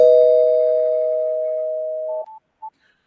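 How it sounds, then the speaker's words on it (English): A spoiler bell sound effect rings as a single sustained chime that slowly fades, followed by two short, quick dings. "So, spoiler bell."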